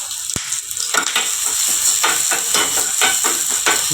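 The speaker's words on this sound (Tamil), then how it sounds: "வரமிளகா போட்டு பூண்டு போட்டு நல்லா வணக்கிடுவோம்" Dried red chillies and garlic frying in oil for chicken curry, a loud steady sizzle with hissing, crackle, and repeated scraping stirs, close and continuous with no talking.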